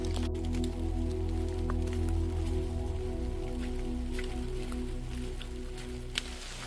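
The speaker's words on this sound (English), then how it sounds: "It's raining." Rain falling on the Appalachian Trail in Virginia's Grayson Highlands, a steady soft patter and hiss with a constant low hum beneath and a few scattered drips, no talking.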